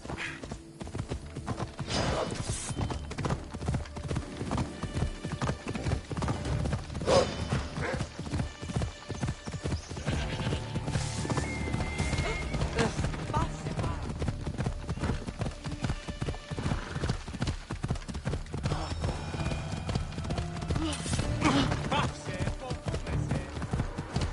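A horse gallops steadily through a ride in Assassin's Creed Odyssey, its rapid hoofbeats loud and continuous with occasional whinnies, while a voice talks over the action.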